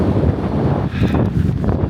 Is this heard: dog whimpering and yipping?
no